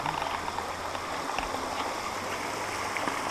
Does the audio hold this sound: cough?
no